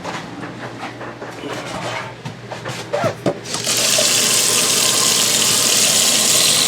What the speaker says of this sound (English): so we'll just turn on the water pump.